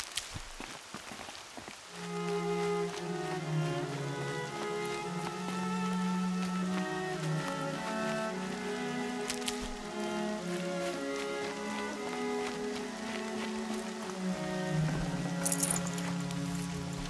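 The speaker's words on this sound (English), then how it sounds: "More rain." Rain falls steadily in Horizon Zero Dawn, a soft continuous patter and hiss lasting throughout, with a calm tonal music bed running underneath and no talking over it.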